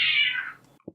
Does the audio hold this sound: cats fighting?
yes